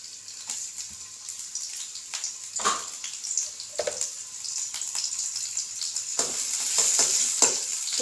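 Shallots frying in hot coconut oil give a steady hiss and bubbling sizzle throughout, with occasional stirring scrapes and clicks, close to the microphone and with no talking.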